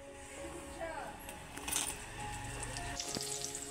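Green chillies sizzle in hot mustard oil in a home kitchen pan, a soft crackling hiss with light metallic clinks of utensils and someone talking quietly underneath.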